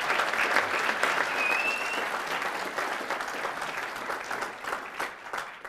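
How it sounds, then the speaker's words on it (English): An audience at a debate conference applauds organizers with sustained, dense clapping from many people, loud at first and gradually thinning and softening toward the end. "Yeah, we have a round of applause for them for sure."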